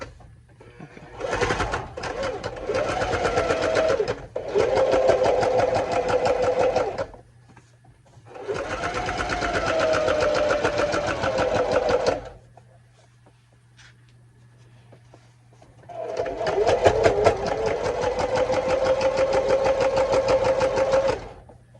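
A sewing machine stitches a table runner seam in three runs of rapid, buzzing stitching, each several seconds long, separated by near-silent pauses; close and fairly loud.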